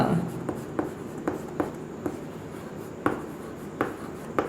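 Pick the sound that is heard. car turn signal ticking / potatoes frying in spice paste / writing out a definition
writing out a definition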